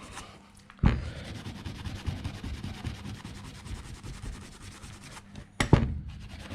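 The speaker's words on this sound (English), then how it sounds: "Just going to get a Scotch-Brite brad, give it our last little polish up." A Scotch-Brite pad polishes a starter motor part from a 1965 Toyota FJ45 F135 motor with close, continuous scrubbing and rubbing strokes, framed by a couple of louder scuffs at the start and end.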